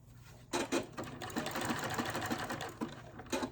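A serger sewing machine runs close and loud as it stitches fabric, with a fast rattling whir in a couple of sustained bursts separated by brief stops.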